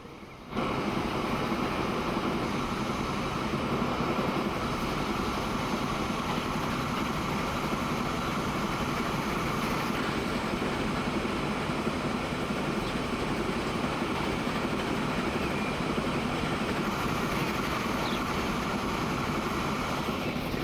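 A train in Transport Fever 2, on a route heading north to Scotland, gives a steady, continuous rumble of engine and rolling noise that holds evenly for the whole stretch, with no talk over it.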